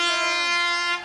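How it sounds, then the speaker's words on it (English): Final hooter sounding at a 1987 rugby league match between Featherstone Rovers and Papua New Guinea: a single loud, sustained horn blast with steady harmonic tone, lasting about a second and dipping slightly in pitch as it fades. "There goes the final hooter."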